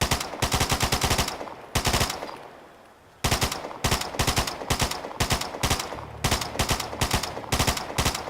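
An FN P90 in the Fallout 4 video game fires short, rapid bursts of gunshots, loud and close, clustered in tight groups separated by brief pauses, with a quieter gap midway.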